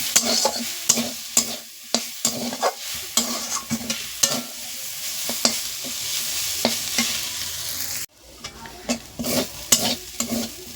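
Drumstick (moringa) greens fry in a pan with a continuous sizzle, broken by repeated clattering stirs and scrapes of a utensil.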